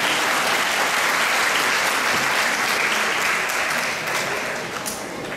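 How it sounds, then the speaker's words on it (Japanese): Audience applause at a drone association event, a thick, continuous round of clapping from a hall full of people, holding steady before tapering slightly toward the end. "拍手をお願いします。"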